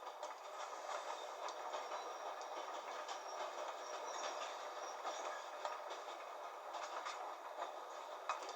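A train carriage interior in the video game The Raven Remastered rattles and clatters steadily, a continuous rolling rumble with rhythmic clickety-clack on the rails throughout.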